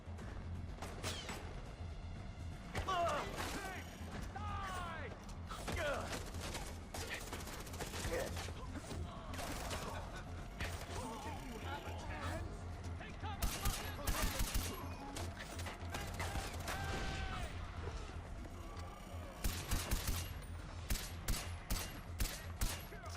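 Bursts of gunfire from the video game Far Cry 4, rapid clustered shots and volleys repeating across a busy battle soundscape with crashes, fairly loud and steady throughout.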